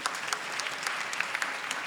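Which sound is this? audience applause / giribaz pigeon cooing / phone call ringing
audience applause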